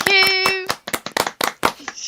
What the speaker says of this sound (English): I think she deserves a round of applause for the first prediction to turn out true.